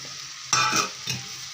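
Boiled chickpeas being stirred with turmeric and grated coconut in a pan, making two short scraping, sizzling bursts over a faint background hiss, close and moderately loud with no talking.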